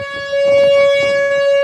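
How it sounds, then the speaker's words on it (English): Tornado siren wails loud and steady during a severe storm with tornadoes about, a single sustained tone with strong harmonics that holds from start to finish. "That's a tornado siren, Charlotte."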